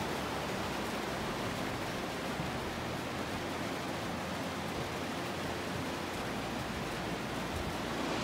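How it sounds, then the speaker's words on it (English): Rain pours onto the roof of a converted bus, a dense, loud, continuous hiss of drops that stays steady throughout with no voices. "This is what it sounds like when it rains in the bus."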